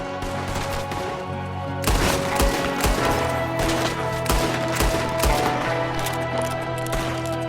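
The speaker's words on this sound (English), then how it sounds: "There's another one shooting from the window." Rapid bursts of gunfire from a window in Red Dead Redemption 2, a dense run of sharp close shots and volleys repeating throughout over a steady game backdrop.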